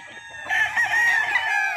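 White and Boston gamefowl chickens crow, one rooster's drawn-out cock-a-doodle-doo rising clearly and close for over a second after a short quiet start, with faint background clucking.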